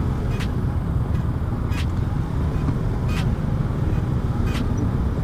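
Night traffic jam heard from a motorbike: a steady low rumble of engines and road noise fills the scene, with a few brief higher hisses or horn-like bursts standing out at intervals.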